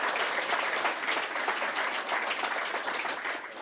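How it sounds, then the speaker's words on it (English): Audience at a public lecture applauding the collaborators, a dense, even wash of clapping from many hands that holds steady and eases slightly near the end. "a round of applause for all the collaborators"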